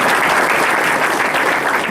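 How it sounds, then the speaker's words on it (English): An audience at a county sheriff's debate claps loudly and continuously, a dense, close burst of applause with no talk over it. "let's give them another round of applause"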